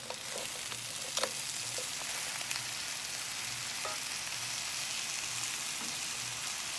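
Frozen Gulf shrimp hitting a hot pan for shrimp scampi, giving a steady, fairly loud hiss and sizzle throughout with a few small crackles and scrapes.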